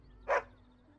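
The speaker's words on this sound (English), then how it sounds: "You're such a handsome dog." A dog in the video game Dragon Age: Origins lets out a single short, close bark or yip lasting a fraction of a second. A low steady hum sits underneath.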